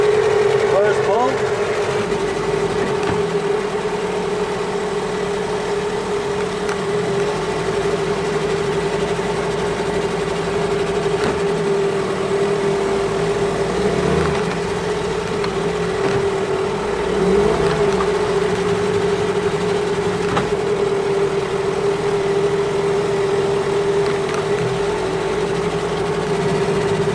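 Boat engines run steadily side by side in a continuous, close mechanical drone with a fixed pitch and light rattle, while a person talks intermittently over it.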